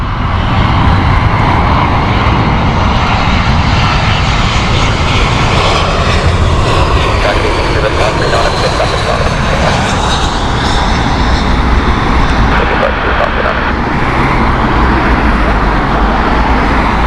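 A loud, steady roar from the engines of Spirit 860 on runway 27 left at Heathrow, a broadband rumble that holds strong for the whole stretch without a break.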